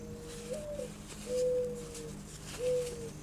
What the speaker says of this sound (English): Can you hear the mourning doves in the background?